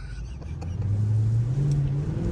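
A 2015 Dodge Challenger Hemi Shaker revs close by, its deep engine note climbing and holding loud through a brief burst of throttle.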